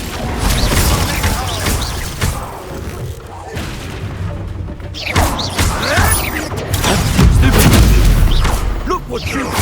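Spell blasts in the video game Hogwarts Legacy: repeated booming explosions and crashing impacts pile up in a dense, loud fight, with voices shouting over the din.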